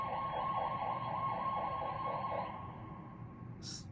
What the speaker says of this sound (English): that was a very weird kind of siren too